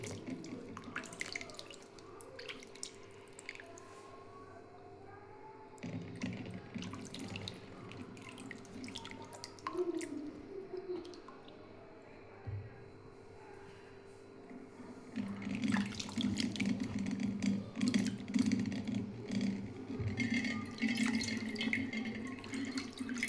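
Raw mangoes, a kilo of them soaked for an hour, are washed under running water for pickle-making. The trickle and splash stay quiet at first, then grow louder and fuller about two-thirds of the way through.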